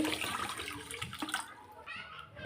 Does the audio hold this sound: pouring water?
yes